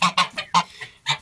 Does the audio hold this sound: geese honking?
yes